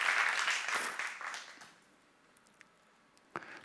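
A church congregation claps in a short burst of applause that quickly dies away into near silence, with a faint thump near the end.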